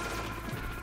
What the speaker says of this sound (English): Now he's shooting.